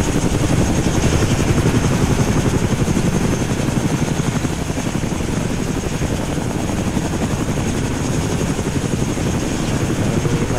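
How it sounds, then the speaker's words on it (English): A helicopter arrives in the ARMA 3 video game, its loud, steady rotor chop and engine roar filling the whole stretch without pause. "This one's the second heli, is it this one here coming in now?"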